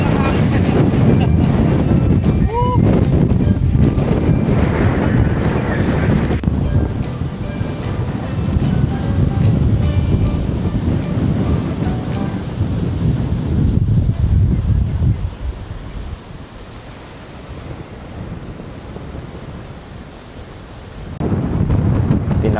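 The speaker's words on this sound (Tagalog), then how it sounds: "Kailangan namin mag-ingat sa hangin. Oo. Ang lakas ng hangin." Strong wind buffets the microphone in loud, continuous gusts with surf-like rushing along the coast at Yehliu Geopark, Keelung, Taiwan, easing somewhat near the end before surging again.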